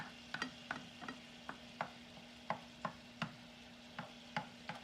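Ground beef for chili beans is scraped and pushed to one side of a frying pan in a series of about a dozen short, sharp scrapes over a steady low sizzle of draining fat, with no talking.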